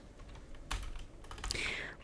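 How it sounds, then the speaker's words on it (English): Soft tapping on a computer keyboard in an ASMR setting, with a short burst of keystrokes around the middle and a few clicks near the end, close and quiet, no talking. "we're gonna add some more keyboard sounds here"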